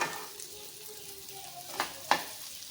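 Egg mixture and noodles frying in a pan over a medium flame: a low, steady sizzle with a few sharp clicks of stirring, faint and close, with no voices.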